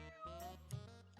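Cartoon cat meowing in the video game Here Come The Mystery Teens, one drawn-out voiced meow followed by a shorter second call, clear and upfront.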